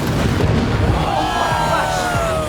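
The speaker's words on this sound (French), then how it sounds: "quelqu'un va lancer un boulet de canon" A cannon firing a cannonball outdoors at a competition event, with drones flying overhead; a loud, sustained boom-like roar with a rising whine and crackling bursts, set against constant background noise.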